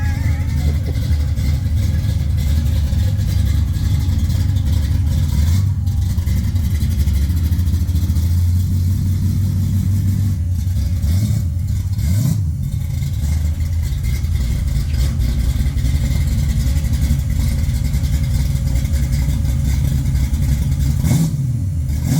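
A small block Chevy V8 swapped into a 1992 Reef Blue Mustang LX coupe runs loud and close, a deep steady rumble that swells into short revs around the middle and again near the end.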